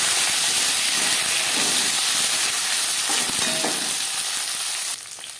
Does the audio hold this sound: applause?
no